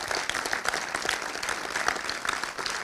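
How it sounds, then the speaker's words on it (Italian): An audience claps to welcome a film director at a screening event, a continuous broad wash of many hands applauding at moderate volume, steady throughout with no voices on top. "Vi prego di accogliere con un grande applauso il regista Federico Savonitto."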